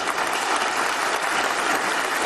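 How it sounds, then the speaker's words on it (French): Steady, dense applause from a large audience at a Cameroonian Ballon d'Or awards ceremony in 2022, loud and continuous without any voices. "Je vous prie d'applaudir pour vous-même."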